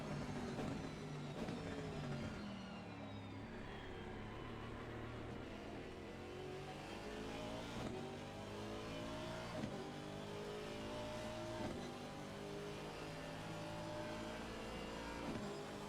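Race cars circling Misano in Assetto Corsa Competizione, an Aston Martin among them, engines droning and shifting pitch continuously through gear changes as several machines run close together, loud and steady with no voices.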